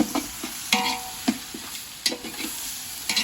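Garlic frying with browned onions in a pan: steady bright sizzle punctuated by repeated scraping strokes of a spoon, close and lively.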